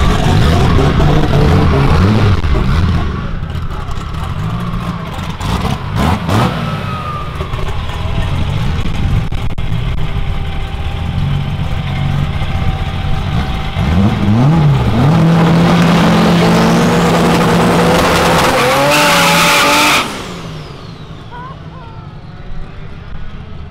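A roughly 800 hp Subaru race car at a track event roars loudly and continuously with engine rises and falls, then shifts through revs before cutting off abruptly near the end.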